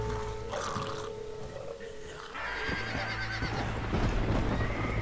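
A horse whinnies over a rumbling, stormy backdrop in Red Dead Redemption: Undead Nightmare, with a second shrill neigh rising toward the end; no one speaks.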